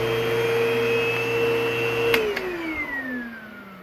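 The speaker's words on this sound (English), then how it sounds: "I'm going to cut it here. See, it's got a pleasant wind down." Aerus Lux Legacy vacuum cleaner hums steadily up close, then after a click is switched off and its motor pitch glides smoothly downward as it winds down, fading toward quiet.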